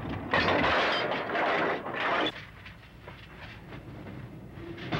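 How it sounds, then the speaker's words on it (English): Freight train box cars rolling down a hump and coupling onto the cars ahead as a train is assembled, giving a loud rumbling roll with a heavy clank about two seconds in, then quieter rolling. "Each car rolls down the hill and clamps onto the car ahead of it."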